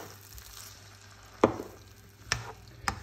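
Tortellini with cream, diced ham and peas being stirred in a pan, a soft simmering bed broken by three sharp spoon-against-pan knocks spaced about a second apart.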